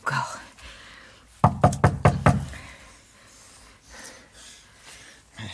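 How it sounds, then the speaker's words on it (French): Knocking on a door in a French radio drama: five sharp raps in a quick burst, close and clear, followed by quiet room tone and soft breathing. "Elle frappe, voyons. Elle frappe encore."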